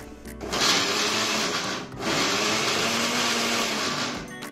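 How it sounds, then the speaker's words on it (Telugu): Loud whirring roar of a mixer grinder running in two bursts with a brief pause between, grinding roasted veld grape stems, coarse contents, no talking. "ఇందాక వేయించి పెట్టుకున్న నల్లేరు ముక్కలను కూడా మిక్సీ పట్టుకుందాం"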